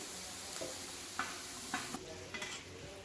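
Papadam frying in oil for a large beef dum biryani, a dense close sizzle with a few stirring scrapes and knocks of a utensil, brief and without speech.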